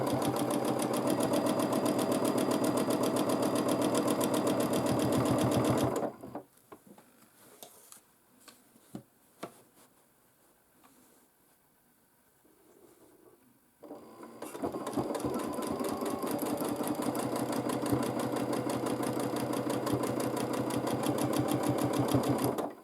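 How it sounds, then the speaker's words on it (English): A sewing machine stitches in the ditch on a baby quilt, a loud steady rapid whir that stops for several seconds of quiet handling clicks, then resumes at full speed. "again stitching in the ditch."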